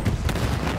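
Rapid gunfire in Second Extinction as players shoot a dinosaur, a dense run of loud, close bursts with a rumbling low end.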